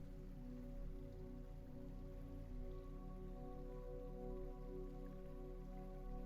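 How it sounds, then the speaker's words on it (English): Steady rain patters against window glass, a soft continuous drizzle of droplets over a low background hum, with no voices. "The rain continues against the glass."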